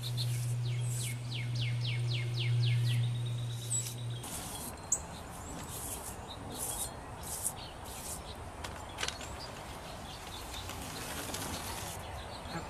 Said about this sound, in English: The birds are happy today.